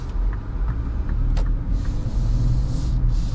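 Interior drone of a 2025 Ford Ranger Lariat 4x4 pickup picking up speed on the road, a steady low engine and road rumble with faint ticks and a brief hiss, no talking.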